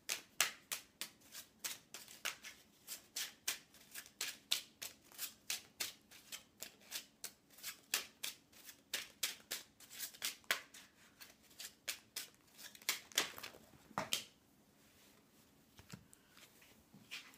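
Abstract picture cards being handled and shuffled, a long run of quick crisp papery flicks and slaps in an uneven rhythm, close and fairly quiet, ending in softer rustling.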